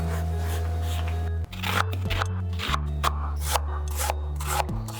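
Knife dicing an onion for Philly cheesesteak sliders, a run of quick crisp chopping strikes on a cutting board, close and steady, over a constant low hum.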